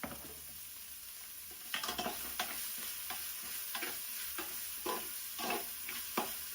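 Onions sauté with salt in a pan, giving a soft continuous sizzle dotted with faint stirring scrapes and ticks, fairly quiet and without voices.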